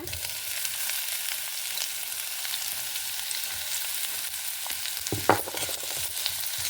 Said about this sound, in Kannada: ಅದೇ ಬಾಣಲಿಗೆ ಈರುಳ್ಳಿ ಫ್ರೈ ಮಾಡ್ಕೊಂಬ